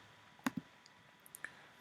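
A couple of faint, close mouse clicks in quick succession while working in mixing software, followed by a few softer ticks in an otherwise quiet room.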